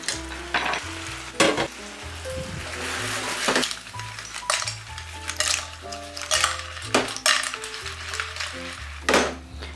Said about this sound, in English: you want to give it a good toss, mixing all those beautiful ingredients together